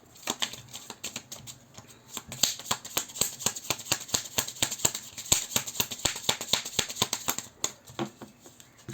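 A deck of cards is shuffled and cut for a tarot-style reading, giving a rapid run of crisp riffling snaps and flicks, close and fairly quiet, with no voices.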